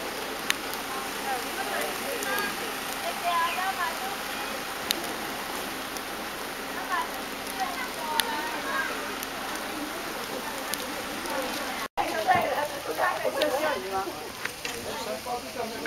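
Steady rain pours down on a rainy day at Tam Coc Bich Dong in Vietnam, a continuous hiss of drops that runs throughout, with a brief break near the end.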